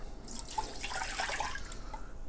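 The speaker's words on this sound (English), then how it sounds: "I'm going to add my water." Water is poured into the bottom of an electric pressure cooker, a splashing, trickling stream with small bright drips, steady for a couple of seconds and close by, no voices.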